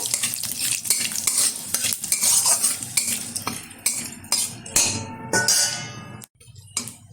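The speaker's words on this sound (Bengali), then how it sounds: "এখন এই তেলেই দিয়ে দিচ্ছি একটা তেজপাতা মাঝখান থেকে ছিঁড়ে, কিছুটা গোটা জিরে। ভালোভাবে একটু ভেজে নেব।" A torn bay leaf and whole cumin seeds frying in hot oil, a close, bright sizzle mixed with busy metal clatter and scraping as a spoon stirs the pan, briefly dropping away near the end.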